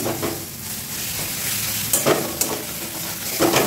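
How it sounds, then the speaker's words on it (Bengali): Masala gravy frying in mustard oil gives a steady, close sizzle with a few scraping stirs of a spoon in the pan, and no one speaks over it. "এবার এটা ভেজে নিচ্ছি।"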